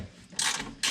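A ratchet wrench clicks as it loosens the skid plate bolts on a sixth-generation Toyota 4Runner, with two quick close-up bursts of rapid metallic ratcheting and a quieter gap between them.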